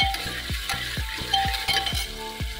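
Chopped tomato hits browned onions in a hot pan, giving a continuous close sizzle punctuated by a regular series of sharp spoon knocks against the pan.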